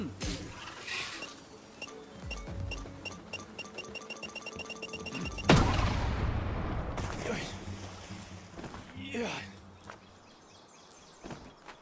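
Explosions go off in a Palworld game dungeon: a rapid series of clinking, crackling bursts builds to a loud blast near the midpoint, followed by a noisy rumbling wash and scattered later pops.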